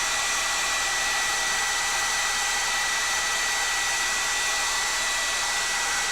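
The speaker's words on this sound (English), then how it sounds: "this hairdryer going back and forth" A hair dryer blows steadily and loudly for the whole stretch, a constant airy whoosh with a faint high whine and no voices.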